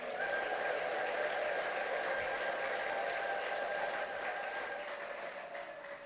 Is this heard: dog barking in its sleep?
no